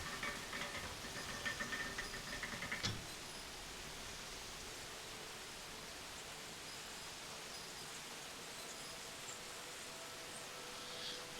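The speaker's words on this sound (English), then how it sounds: "Hydraulic engine." A hydraulic engine running in the video game Obduction makes a steady, faint, broad whooshing hum, like rushing water or spray, with a slightly busier stretch near the start and no speech.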